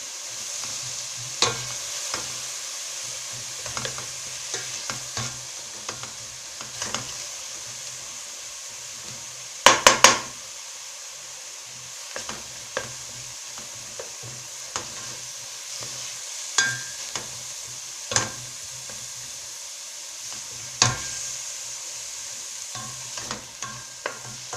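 Onion and tomatoes fry in a pan with a steady sizzle, broken by repeated scraping clicks of a stirring utensil and a brief cluster of sharp knocks near the middle, close and moderately loud with no talk.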